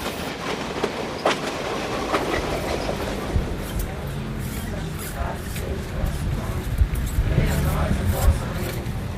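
A commuter train rumbles through Realengo station in Rio de Janeiro with a continuous rolling roar and clattering wheels, loud and close throughout.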